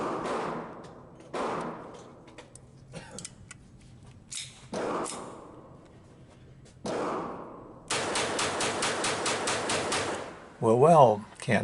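Shots from a Kimber 1911 pistol fitted with a .22LR rimfire target conversion kit firing CCI uppercut ammunition: several sharp single cracks spaced apart, then a rapid string of closely timed shots, ending in a louder burst.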